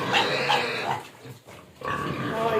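Pigs in a farm pen grunt and snuffle close by in a rough, throaty stream, with a short quieter gap before the grunting picks up again.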